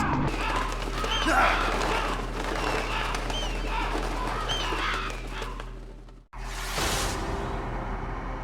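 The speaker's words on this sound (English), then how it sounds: "You're still being chased by the birds." Birds chasing the player in the Metal Gear Solid video game, several short chirps and calls scattered over a dense, droning game soundtrack, with a sudden break and a loud whoosh near the end.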